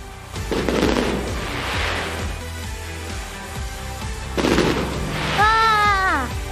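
New Year fireworks go off in a string of booming, gunshot-like bangs with a steady rumble between them. A voice rises over the blasts near the end.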